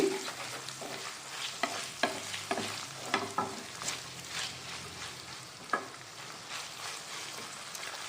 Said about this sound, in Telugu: ఇంకా మనం మూత పెట్టకుండా ఫ్రై చేసుకోవాలి